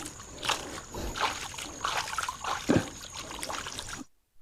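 Irrigation water trickles and sloshes in a vegetable field, a close run of uneven splashes and gurgles that ends in near-silence once the flow stops.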